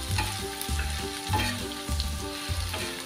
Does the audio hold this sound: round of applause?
no